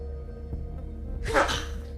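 A single short sneeze bursts out near the end, sharp and close, after a quiet stretch with a faint background hum.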